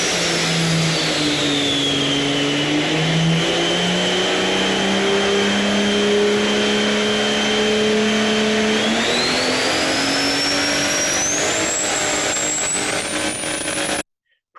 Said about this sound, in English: here is a short video of a turbocharger in action